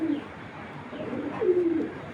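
A foreign racing pigeon gives two soft, close coos, a short one at the start and a longer rolling one past the midpoint, over quiet background hiss.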